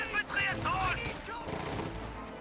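Infantry rifle and machine-gun fire in a World War II strategy video game, a Fallschirmjäger squad engaging a rifle squad in wooded terrain, with scattered shots and bursts running steadily under the sound of a speaking voice.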